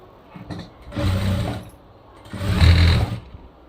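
A sewing machine stitching the side seam of a plain raglan blouse whirs in two loud, steady bursts about a second each, separated by a short pause, close up.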